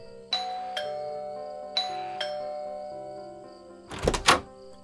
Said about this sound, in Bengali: কলিং বেল টিপলাম।